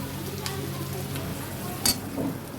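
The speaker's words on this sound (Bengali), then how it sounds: "এখন মশলাটা খুব ভালোভাবে কষিয়ে নেব" Spice paste for a fish kalia being fried and stirred in a pan, a steady soft sizzle with a few sharper scrapes of the spatula, close by and without talk.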